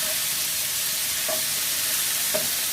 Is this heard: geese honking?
no